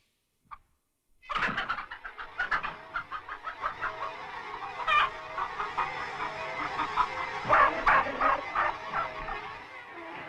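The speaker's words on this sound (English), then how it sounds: "The chickens seemed to remember old Major saying that their eggs should never be taken from them." Hens in an animated Animal Farm scene cluck and squawk in a rapid, busy rhythm, a loud flock of fowl sounding close and continuous after a brief opening blip.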